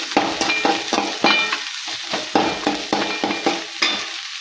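Capsicum and other vegetables being stirred in a sizzling frying pan, a steady fry hiss with repeated spatula scrapes and clacks at an uneven rhythm, close and fairly loud.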